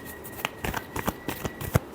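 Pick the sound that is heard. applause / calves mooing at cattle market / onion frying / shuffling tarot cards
shuffling tarot cards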